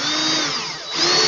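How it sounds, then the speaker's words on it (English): A power drill with a sharp bit bores through wood, making a loud, close, continuous motor whine that dips briefly in pitch and load before rising again. No one talks. "and then just drill it"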